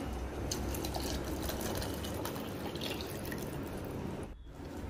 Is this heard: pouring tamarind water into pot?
yes